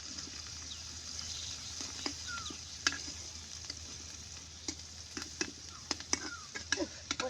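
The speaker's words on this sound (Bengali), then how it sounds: "পেঁয়াজ আর মরিচটা ভাজা হয়ে গেছে" Onion and chili sizzling in a hot pan, a steady frying hiss broken by sharp clinks and scrapes of a spoon stirring, close and fairly quiet, with no talking.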